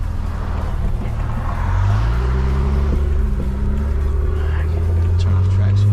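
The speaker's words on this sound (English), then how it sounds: "We're gonna go take it for a test drive and see how she drives." BMW N54 turbocharged engine running on E85 flex fuel during a test drive: a steady low drone with a rising engine tone as the car pulls away, close and fairly loud, with people talking over it.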